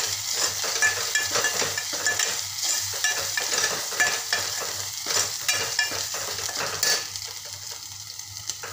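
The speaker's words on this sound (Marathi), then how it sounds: "छान एकजीव होईपर्यंत छान असं मस्त परतून घ्यायचं।" Chole masala sautéed in a pan, with rapid, rhythmic spatula scrapes and stirs over a constant sizzle, close and fairly loud throughout.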